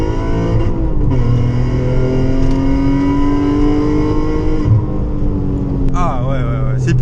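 Alfa Romeo 147 GTA engine pulling hard on a road drive, a steady loud drone with rising and falling harmonic sweeps as it revs through the gears, a brief shift dip near the end, with voices talking over it.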